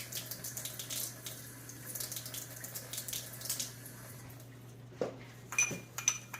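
Water being added to chia seeds for a chia egg in a home kitchen, heard as a soft trickle and splashing over a steady hum, followed by a few faint clinks of a spoon or dish near the end.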